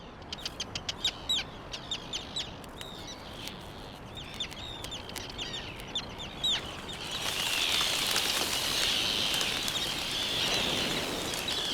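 Seabirds in a colony on a volcanic island give repeated sharp, clucking calls close by, then a denser chorus of many birds rises and fills the scene.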